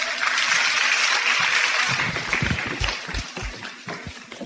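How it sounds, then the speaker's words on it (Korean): An audience gives warm, sustained applause to welcome a lecturer at a special talk, dense clapping that fades into scattered claps toward the end. "뜨거운 박수로 환영해 주시기 바랍니다."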